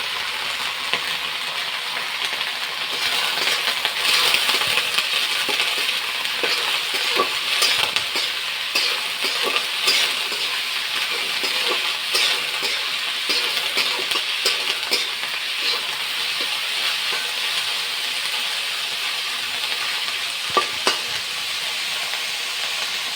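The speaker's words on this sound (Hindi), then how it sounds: "प्याज भुंजात हुए हैं ना" Onions frying in a pan for a Chhattisgarhi bohar bhaji, a loud continuous sizzle with repeated scraping and stirring clatter from a utensil, close and busy the whole time, with no one speaking.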